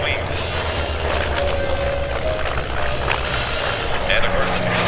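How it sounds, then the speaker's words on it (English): An F4U Corsair warbird with gull wings flies past at an airshow, its loud continuous propeller engine roar filling the air under an announcer's voice over the public address. "Here comes the F4U Corsair and those very unique gull-wing styled wings."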